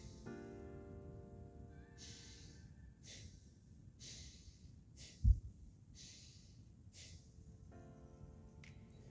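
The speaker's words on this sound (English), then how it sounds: "This practice is a conscious connected breath, or a circular breath, where the inhale and the exhale meet without pause." Steady conscious connected breathing, each active drawn-in inhale flowing straight into a relaxed, released exhale with no pause, repeating roughly every second or two, close and soft over a faint background hum.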